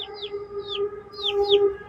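Chickens on a small backyard poultry farm cluck and chirp in short repeated calls over a steady background hum, close and moderately loud.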